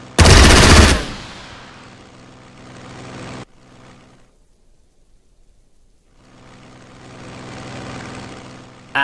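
A loud burst of aircraft gunfire opens a strafing attack run in the WWII strategy game Strategic Mind during the Burma campaign, followed by a fading engine drone, a near-silent gap, then the engine hum returning.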